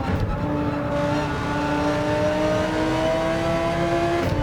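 GT3 race car engine in Gran Turismo 7 held at high revs through the gears, a steady whining roar whose pitch climbs and shifts between gears, loud and continuous with faint tire noise and no speech.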